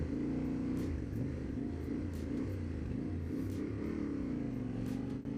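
A Yamaha Ténéré 700 motorcycle rides through city traffic, its engine droning with wavering pitch as it accelerates and eases off, with wind rush and passing cars around it and no talking.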